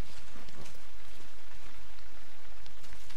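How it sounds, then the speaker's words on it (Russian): Steady rain falls as a soft, even hiss at a moderate distance, with faint scattered drops and no voices. "Темнеет, идет дождь."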